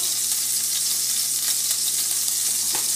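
Oil sizzling in a pan while frying the base for mapo tofu, a steady, close hiss with a faint low hum underneath and no voices.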